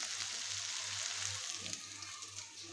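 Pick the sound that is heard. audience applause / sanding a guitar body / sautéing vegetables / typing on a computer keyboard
sautéing vegetables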